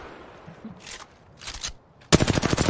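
Gunfire in the video game Apex Legends: two short bursts of automatic fire separated by pauses, then a loud, rapid sustained stream of shots at the end, close and clear with no talk.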